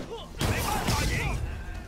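Enemy gunfire in the Spider-Man PS4 video game: a sudden loud broadband blast erupts and rumbles on briefly, with voices speaking over the action.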